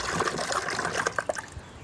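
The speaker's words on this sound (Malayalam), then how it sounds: "അങ്ങനെ അത് വെള്ളം ഒഴിച്ചിട്ടു" Water poured into a bowl in a home kitchen during morning cooking, a short close trickle and splash with no talking.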